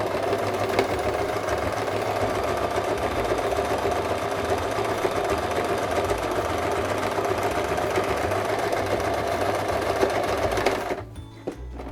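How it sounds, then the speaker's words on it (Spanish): Near and steady, a sewing machine runs continuously while stitching a zipper crossbody bag, a dense mechanical whir with a rapid needle rhythm that holds for about eleven seconds before stopping abruptly. "Y vamos a la máquina, nos colocamos y cosemos."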